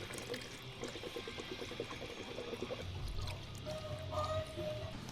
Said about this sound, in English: All right, let's go add some coolant.